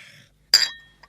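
Glasses clink together in a cognac toast, one bright ringing clink that fades slowly, then a second fainter tap, in a quiet room after brief low talk.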